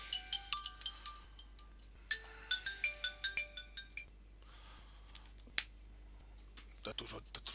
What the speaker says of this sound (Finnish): Nyt toi puhelin.